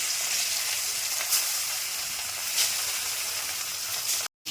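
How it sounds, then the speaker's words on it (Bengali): Fish fry in hot oil in a wok with a continuous, even sizzle and hiss that briefly cuts out near the end. "মাছগুলো ভেজে নিচ্ছি।"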